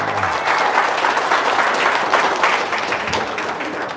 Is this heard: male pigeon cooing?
no